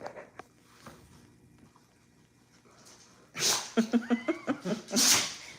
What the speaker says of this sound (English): My dogs are sneezing.